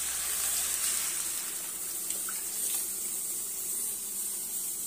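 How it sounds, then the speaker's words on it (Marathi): Hot water poured from a metal pot into masala rice cooking in a pot, a steady close-up rushing gush lasting several seconds without pause, with no talking. "मी 1 तांब्या गरम पाणी घालते।"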